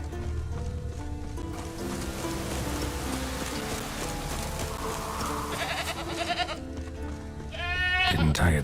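A tethered goat bleats repeatedly in The Witcher 3, wavering cries rising over a constant patter of rain and soft ambient music, with a voice talking over the scene.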